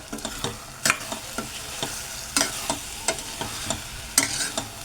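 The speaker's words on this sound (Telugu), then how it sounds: "ఒకసారి కలుపుకుందాం మనం" Cauliflower curry being stirred in a pan, with repeated scraping and clinking strokes of a spoon against the metal at an uneven rhythm over a soft sizzle, close and fairly loud, no voices.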